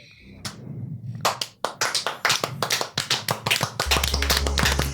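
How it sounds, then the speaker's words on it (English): A roomful of people breaks into applause: a few scattered claps at first, then a quick build into dense, overlapping clapping that keeps going, loud and close. "but he starts clapping."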